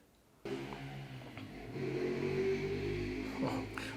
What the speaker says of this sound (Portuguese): Passou a moto ali.